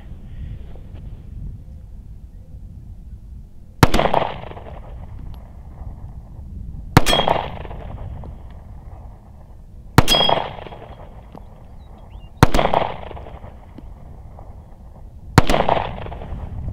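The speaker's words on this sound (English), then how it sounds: "so we're going to take 5 shots here." A P08 Luger pistol fires five sharp, loud shots spaced a few seconds apart, each crack followed by a brief ringing decay.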